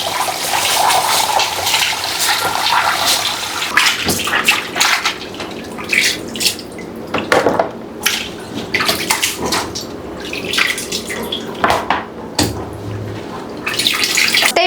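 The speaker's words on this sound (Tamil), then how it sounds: "இன்னொரு டைம் பிளைன் வாட்டர் கழுவி எடுத்துக்கலாம்." Goat head meat is rinsed in plain water, with steady splashing and sloshing running close up throughout, broken by brief louder swishes and handling clatter.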